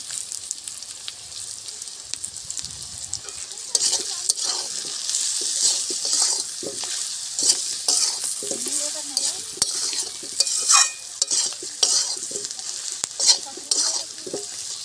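Spices with turmeric and salt sizzle in a hot pan, stirred with a spoon in repeated scraping strokes over a constant loud fry, with no talking.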